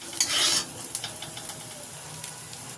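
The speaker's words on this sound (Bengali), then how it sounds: "খুব ভালো করে ভেজে নিয়েছি এবারে তুলে নিচ্ছি" Mixed fried rice ingredients frying in a pan, a short loud sizzle at the start followed by quieter stirring and scraping of a spatula against the pan.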